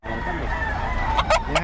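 A rooster crows loudly and close among other chickens, its strained calls breaking out near the end over a busy background of clucking fowl and faint voices at a cockfighting venue.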